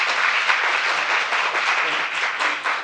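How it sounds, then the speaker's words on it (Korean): Audience applause at a Seoul policy forum on elderly day-care and in-home support services, a dense, steady wash of many hands clapping, loud and continuous throughout with no voices over it. "다시 한번 강석주 위원장님께 큰 박수를 부탁드립니다"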